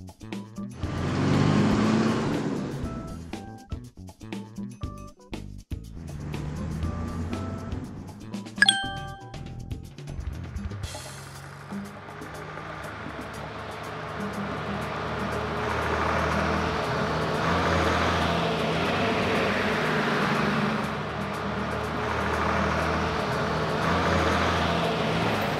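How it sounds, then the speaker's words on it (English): A school bus: bright dings and metallic clangs ring out early on, then a steady, moderately loud engine rumble and road noise carry on as the bus drives along. "School bus."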